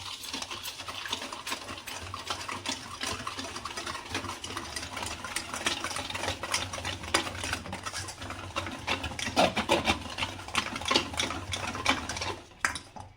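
Kaja dough with baking soda and salt is mixed by hand in a bowl, producing a steady, close patter of soft squishing and scraping strokes that grows a bit busier toward the end.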